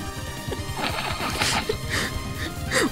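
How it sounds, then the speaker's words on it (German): An explosion goes off in the game Trouble in Terrorist Town, a crashing burst with scattered impacts and rattling debris over a few seconds. "Hinter dir ist was explodiert."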